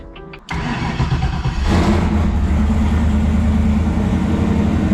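A turbocharged Camaro engine cranks briefly and catches, then roars into a loud, sustained rev that stays strong and steady to the end, heard up close with no talking.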